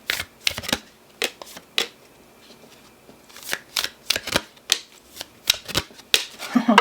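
Tarot cards are shuffled in repeated crisp riffling bursts, close and clear, separated by short pauses and growing busier toward the end.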